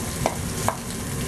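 Chicken stir-fries in a hot wok with asparagus and water chestnuts, giving a steady close sizzle broken by two brief scraping clinks of a utensil against the pan.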